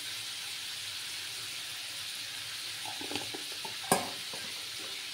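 Spices with Kashmiri chilli powder fry for a vegetarian doi begun, a steady low sizzle joined near the end by a few stirring scrapes and one sharp clank.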